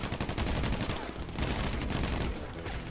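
Rapid automatic gunfire from a GTA V adversary-mode match, dense sustained bursts of shots filling the whole stretch with only brief dips, loud and close.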